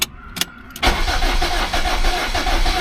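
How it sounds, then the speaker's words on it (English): A 7th-generation Toyota Celica engine cranks over with a couple of short bursts, then a sustained, loud, even churning of the starter for about two seconds, close up and with no voices. "I need to prime the engine for 10 seconds."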